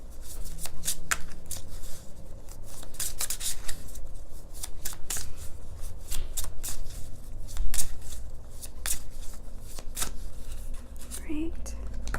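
Tarot cards are shuffled over and over in quick, crisp riffling bursts, close to the microphone, as someone talks softly throughout.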